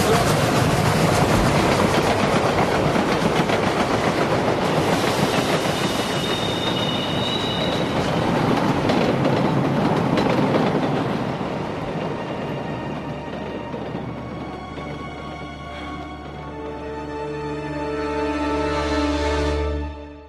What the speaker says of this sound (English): It appears to be a steam locomotive.